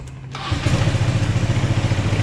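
A scooter engine fires up after a tune-up and fuel pump replacement, a short cranking burst followed by a loud, close, steady putter of idling with a quick rhythmic pulse.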